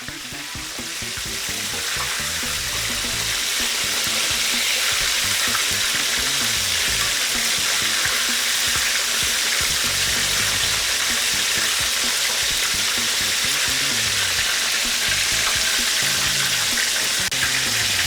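Chicken pieces for a buffalo chicken sandwich sizzle and fry steadily in a pan after being flipped, a dense, continuous crackle that stays loud and close throughout with no talking.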